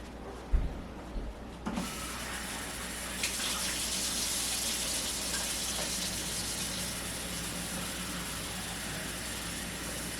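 A cup of cold water pours into a chicken and dumpling dough of flour and lard, a steady splashing stream running several seconds after a couple of faint knocks.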